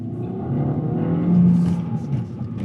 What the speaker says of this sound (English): Let's get back in the car and do a bit more driving.